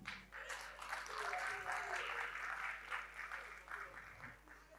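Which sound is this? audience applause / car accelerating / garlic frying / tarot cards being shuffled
audience applause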